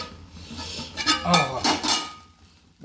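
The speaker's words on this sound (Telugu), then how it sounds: "మూత పెట్టేద్దాం, అందులో ఉన్న తేమ పోయి" A metal lid set onto a cooking pot while ponnaganti greens cook, giving a few close clanks and scrapes of metal on metal in the kitchen.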